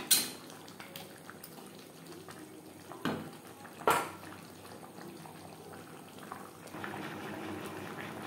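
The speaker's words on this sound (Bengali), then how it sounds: "চিকেনের সাথে আলু বেশ ভালো করে মিক্সড করে দেব।" A spoon stirs potatoes into chicken curry in a pan, giving a few clear metallic clinks against the pan over a steady low simmering bubble.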